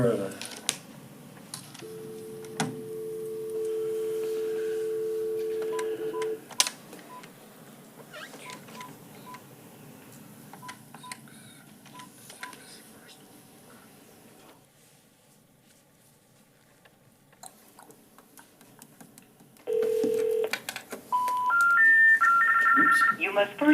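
Telephone line tones during a remote meeting call: steady dial-type tones and beeping sequences, with faint clicks and quiet stretches between them.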